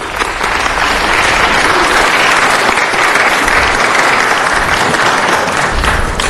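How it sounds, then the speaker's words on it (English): An audience at a city council meeting gives a round of applause for an honored exhibitor, loud, dense and steady clapping that fills the room throughout without a break. "So let's give Mary a round of applause."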